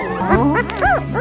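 A puppy, one of a champion Iditarod sled dog team's litter in Seward, Alaska, gives short high yips and whimpering whines close by. The cries come in quick bursts over a low steady hum, with no talk.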